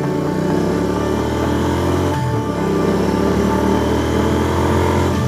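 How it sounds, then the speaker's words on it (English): A motorcycle exhaust roars steadily while riding, a loud, sustained engine drone with rich harmonics and a brief dip in pitch midway, no voices. "Listen to that exhaust, baby!"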